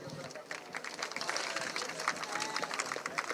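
Audience applause at the finale of the Miss Città Murata beauty pageant in Cittadella, Padova, a fairly faint, scattered clapping from a crowd that builds slightly, with some background voices underneath.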